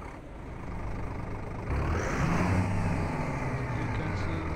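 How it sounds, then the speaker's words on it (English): A Comil Invictus DD 2023 double-decker bus engine starts in Euro Truck Simulator 2, a low rumble that swells after a couple of seconds and settles into a steady, loud idle. "So let's start the engine."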